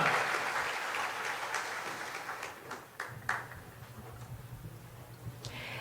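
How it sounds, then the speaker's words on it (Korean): A church congregation at a Sunday service in Jeonju Yeongsaeng Church claps together in praise, a fairly soft, sustained round of applause that thins slightly toward the end. "우리 하나님께 영광의 박수를 올려드리겠습니다"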